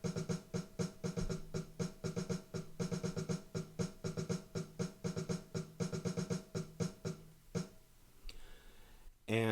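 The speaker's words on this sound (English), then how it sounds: "The snare drum part all by itself sounds like this." A snare drum part plays alone in a steady, fast, even pattern of crisp hits with driving sixteenth-note motion, fairly quiet, ending in a short flourish.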